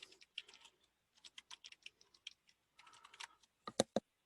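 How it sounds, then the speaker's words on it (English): Someone types a cluster ID on a computer keyboard, producing quiet, close, irregular key taps in short bursts, with a sharper pair of clicks at the end and no speech. "the first way of defining clusters is by just typing a cluster ID"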